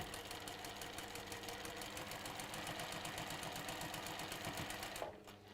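A sewing machine stitches a quilting seam with a fast, even mechanical rattle close to the mic, running steadily before stopping abruptly near the end.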